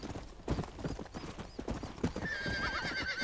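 Horse hooves clip-clop at a steady trotting rhythm in the Red Dead Redemption video game, close and fairly loud, with a thin whistling tone rising over the hoofbeats near the end.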